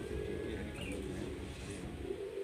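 Old-breed flying pigeons in Malihabad, Lucknow, coo softly in low murmuring calls over a steady background hum.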